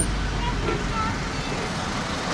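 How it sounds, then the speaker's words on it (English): Steady road traffic rumbles past on a busy through-route, a continuous broadband wash of cars and heavier vehicles at moderate distance with no clear individual pass-bys. "there's lots of traffic through here"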